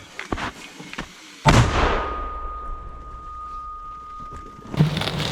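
A single heavy Ukrainian army mortar shot booms out at close range on a front line, its blast rolling off into a long fading rumble before another muffled thud.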